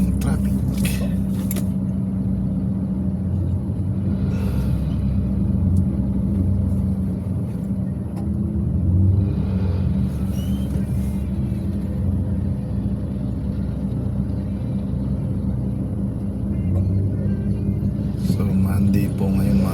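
A car merges onto the NLEX expressway in traffic, giving a steady low road rumble and engine drone inside the cabin while a person talks over it throughout.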